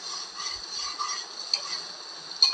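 Minced mutton roasts in oil for a Savaji mutton keema, giving a steady soft sizzle with a couple of sharp spoon scrapes against the pan, close and without talk.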